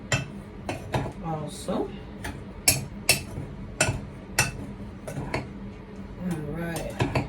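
A utensil clinks and scrapes against a bowl while carrot cake batter is mixed, sharp rhythmic taps close up with a voice speaking briefly over them.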